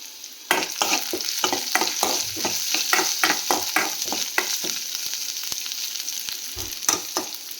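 Onions and green chilli sautéing in a pan, with a steady sizzle broken by repeated spoon scrapes and stirs in an uneven rhythm, close and fairly loud.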